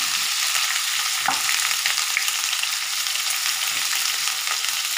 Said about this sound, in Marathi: साधारण 2-3 मिनिटासाठी ही अशी तेलावरती चालू फ्राय करून घेणार आहे.